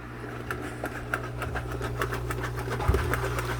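Cascade aquarium canister filter pump running while being primed with air still inside, giving a steady low motor hum with a rapid rhythmic clicking rattle layered on top, close and continuous, no talking.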